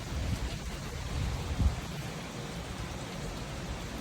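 Rain from Hurricane Nicole falls steadily with a soft, fairly faint hiss, a brief low gusty thump rising once in the middle, and no one speaking.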